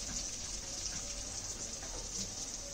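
Water poured into a cooking pan with spiced fish curry of tangra and khoyra fish, a steady gushing, splashing flow heard up close and continuous throughout, with no talking.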